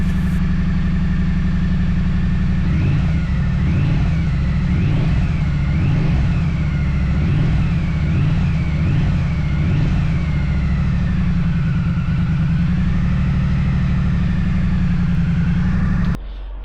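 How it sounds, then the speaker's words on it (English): A Triumph motorcycle on its standard exhaust idles up close with a low steady rumble, then is revved in a series of rhythmic blips before settling back to idle and cutting off at the end. "we'll start the bike up to get an idea of what noise is"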